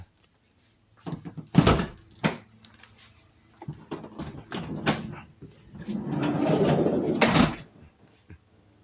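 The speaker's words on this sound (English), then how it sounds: "let me open up the side door here." A minivan's sliding side door is pulled open, with several sharp clunks and latch knocks, then a longer rolling slide and a final thud, close by and loud.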